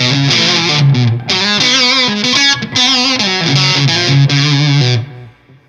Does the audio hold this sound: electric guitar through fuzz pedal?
yes